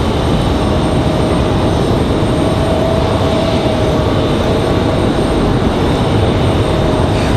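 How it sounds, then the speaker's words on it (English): An American Airlines Boeing 737 jet touching down at Raleigh-Durham International after a flight from Miami, a loud, steady broadband roar that fills the whole stretch without a break. "an American 737 touching down"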